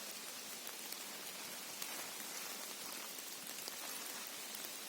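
Water drips from wet tree branches after rain in a forest, a dense, faint, even patter of drops with no voices.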